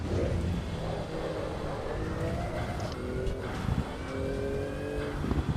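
A race car roars around the Nürburgring in Assetto Corsa EVO, its engine a loud, continuous drone that climbs and falls in pitch through gear changes, with another car passing close by.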